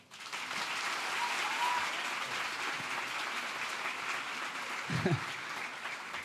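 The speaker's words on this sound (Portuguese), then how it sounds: "Peço que recebam com uma calorosa salva de palmas Rodrigo Galvão." Audience applause welcomes Rodrigo Galvão to the stage at a career forum, a steady wash of clapping from a large crowd sustained throughout, with a brief low rumble or voice near the end.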